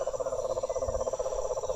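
A steady, rapidly pulsing chorus of frogs trilling continuously at night at a Caliraya campsite, fairly loud and unbroken, with a faint low rumble beneath.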